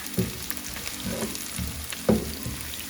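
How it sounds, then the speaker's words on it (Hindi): Onions frying in oil in a kadhai as the base for dhaba-style mash daal, a steady close sizzle with soft stirring scrapes around it and a few louder pops and clatters at intervals. "तो ये देखें हमारी प्याज तकरीबन फ्राई हो रही है।"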